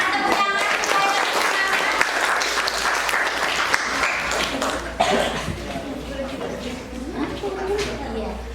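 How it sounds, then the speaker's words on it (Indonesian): Classroom audience applauding a student group as it comes up to present, a steady wash of clapping with coughs and murmured voices mixed in, fading somewhat toward the end. "Berikan tepuk tangan supaya lebih"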